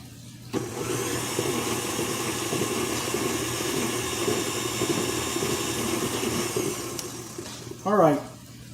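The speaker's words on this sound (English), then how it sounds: "we're going to let the KitchenAid do the work as it'll crush up our candy canes" A KitchenAid stand mixer runs steadily, crushing candy canes into a white chocolate peppermint pie filling, a loud continuous motor whir with gritty rattling that stops abruptly near the end.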